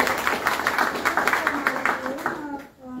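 Rhythmic clapping from a small audience at a book launch during a book fair, a quick burst of hands that thins out and fades within a few seconds as a voice begins speaking.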